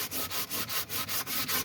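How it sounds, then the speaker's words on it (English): An old sander scuffs the surface of a wooden drawer in a quick, even rhythm of close, loud rasping strokes, about eight passes in under two seconds, with no voices. "I got this old sander, let's try it. All I'm doing is just scuffing it up."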